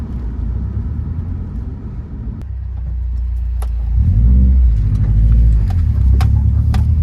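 A Subaru WRX engine with a boost leak hums low inside the cabin, then swells into a deeper, louder rumble as it accelerates into turbo boost, with small clicks and rattles.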